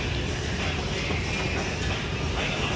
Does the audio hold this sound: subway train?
yes